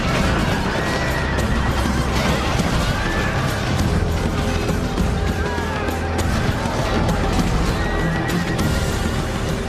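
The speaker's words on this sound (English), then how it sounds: "The second unit of Roman horse arrives, but Aroestes and his Gauls are ready and waiting" Cavalry horses charge in a Roman-versus-Gaul battle video game, whinnying and neighing over dense clattering hooves and crashing melee, a loud, continuous battle din throughout.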